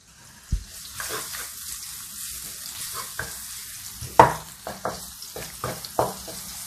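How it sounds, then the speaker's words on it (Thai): Oil sizzles steadily in a wok as shiitake mushrooms are stir-fried, a utensil scraping and stirring in irregular bursts, with occasional sharper clacks against the metal. "ผัดไปสักครู่นะคะ"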